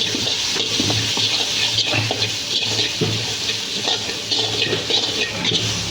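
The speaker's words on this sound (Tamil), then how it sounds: "இப்போ இது கூட நமக்கு தேவையான அளவு தண்ணி விட்டுருக்கோம் தண்ணி விட்டுட்டு நல்லா கொதிக்க விடுவோம்" Water pours steadily into a pan of dry anchovy masala on the stove, a continuous close splashing and trickling with no speech.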